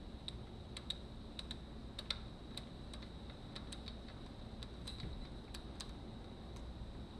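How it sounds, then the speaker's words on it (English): The suspension clicker adjuster on a Honda CRF450X being turned, giving a steady run of small, crisp ticks at an irregular pace over a constant low hiss, close up and quiet, with no voices. "You hear it click. It's your adjuster."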